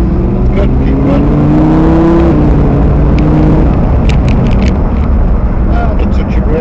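A Lamborghini Huracan at Kirkbride Airfield accelerates hard, its engine note climbing in rising harmonics before a brief drop and steady high run, loud and close with wind buffeting.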